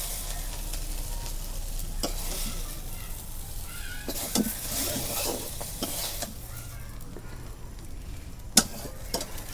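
Pieces of silver carp fish sizzle steadily in hot oil, with scattered clinks and scrapes of stirring in the pan throughout.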